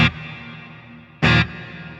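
An electric guitar played through a Fractal AM4 with a large hall reverb, set clean to just on the edge of breakup: two short strummed hits, each followed by a long, smooth ambient tail.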